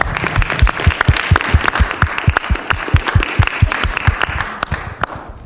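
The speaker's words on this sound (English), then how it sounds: "please once again, just give a nice warm round of applause for all the panelists here" An audience applauds panelists at a college media symposium with strong, rhythmic clapping close to the microphone, steady for several seconds before it thins and fades out.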